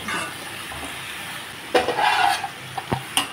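Green chillies and vegetables with turmeric and salt are stirred in a frying pan: a soft sizzle under a few sharp scraping and clattering strokes, close by and brief, with no talk.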